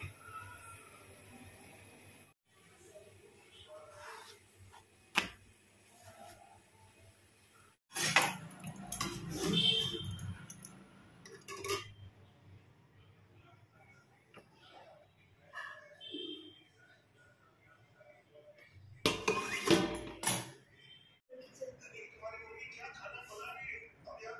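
Dishes are washed in a home kitchen, with scattered clinks and clatters of utensils and pots coming in intermittent bursts against quiet background, with faint voices at times.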